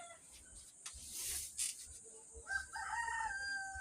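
Roosters crow repeatedly nearby in a rural Philippine setting, several overlapping calls with some clucking, and light ambient noise between the crows.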